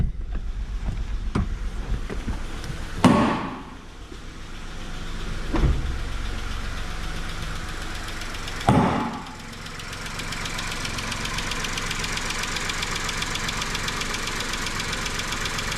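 A Skoda Rapid 1.2 engine idling after a timing chain replacement, a steady even running hum heard close, interrupted by a few sharp clunks and knocks from nearby handling.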